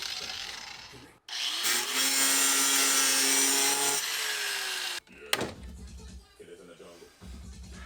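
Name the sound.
cutting a flathead slit into a bolt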